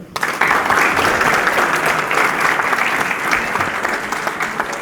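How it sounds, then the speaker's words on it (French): A crowd at a political rally in Chambéry bursts into loud, sustained applause for Gaël, dense clapping that holds steady throughout and fades only slightly toward the end. "Donc, on applaudit Gaël."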